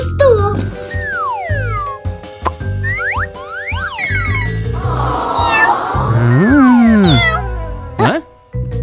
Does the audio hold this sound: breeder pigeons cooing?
no